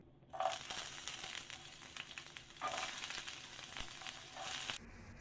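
Two onions cut into large chunks hit hot oil in a frying pan and sizzle loudly and close, a steady crackling fry with a couple of louder surges as the pieces are stirred, no voices.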